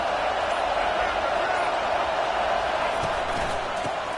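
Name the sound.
football stadium crowd roaring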